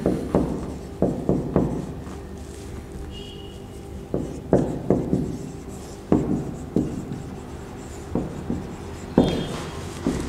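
Chalk or marker tapping and scratching on a classroom board while a chemistry definition is written, in short irregular clusters of strokes, close and clear with no talking.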